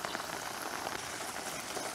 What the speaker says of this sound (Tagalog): Nalakas si ulan.